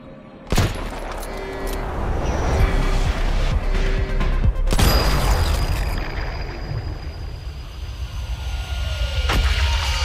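A loud sniper rifle shot rings out in the mobile shooter game Sniper Fury, with a second sharp crack a few seconds later, both over steady game background noise.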